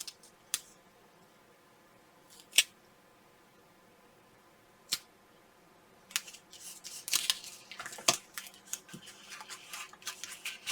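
Scissors make several sharp, isolated snips through washi tape, spaced a few seconds apart, followed by a cluster of closer crisp cuts and paper rustling, close and fairly quiet.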